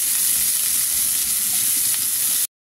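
Onion and garlic sofrito frying in a pan for Yucatecan escabeche, a loud, steady, bright sizzle that continues without pause before cutting off abruptly.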